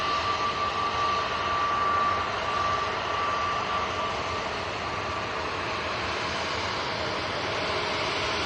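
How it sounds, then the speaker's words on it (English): A jet taxiing at Manchester Airport gives off a loud, steady engine whine and rumble that holds even across the whole stretch, with a faint tonal beep heard near the start. "Got a nice view of that as it taxis back in as well."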